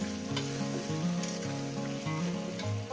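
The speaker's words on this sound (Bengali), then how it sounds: "এবার এটাকে সুন্দর করে কষব মিনিমাম তিন চার মিনিট ধরে" Masala for a parshe fish curry with potato and taro sizzles in a pan as it is sautéed, a steady close frying hiss with soft stirring scrapes and no talk.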